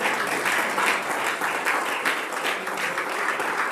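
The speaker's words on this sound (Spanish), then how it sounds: "denle un aplauso al Señor Jesucristo." Church congregation applauding during a Spanish-language sermon, a steady wash of many hands clapping that holds at even volume from start to finish, fairly close and without speech.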